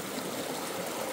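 A low, shallow river flows steadily at a creek bank, a soft continuous watery hiss with gentle trickling, fairly faint and with no voices.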